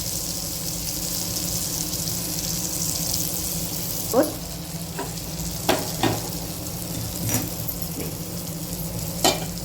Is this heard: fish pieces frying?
yes